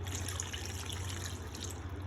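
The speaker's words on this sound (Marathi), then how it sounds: "आता आपण हाच पाणी ॲड करूया" Water being added to the pot for a crab masala, a steady, close pouring wash that runs without a break over a low background hum.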